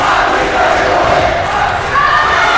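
A packed gym crowd roars loudly and continuously at a Turner versus Monroe varsity volleyball match, with cheers and yells swelling steadily throughout.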